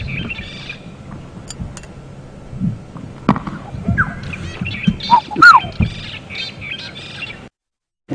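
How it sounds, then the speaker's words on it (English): A bright yellow bird with a black head calls on an early-morning safari drive at Djuma Game Reserve, giving scattered chirps and squawky notes at mid distance over a steady outdoor background, with a brief stronger burst of calls partway through. "It's a bright yellow bird with a black head."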